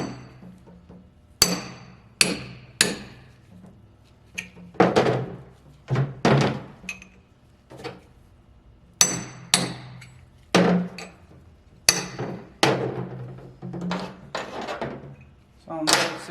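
Hammer blows on a chisel while installing a limited slip differential in a RAM 1500 9.25 ZF axle: sharp metallic strikes, some single and some in quick pairs, spread irregularly through the clip with brief talk in between.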